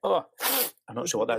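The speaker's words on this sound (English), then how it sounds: "Excuse me, I'm going to sneeze in a minute." A single sharp sneeze bursts out at close range between stretches of conversation.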